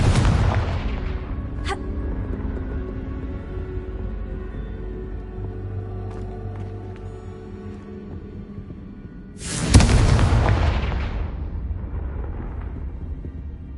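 A Confringo fire spell in Hogwarts Legacy bursts out loud at the very start and again as a second broadband blast near the end, with a low rumbling ambience lingering between the two explosive hits.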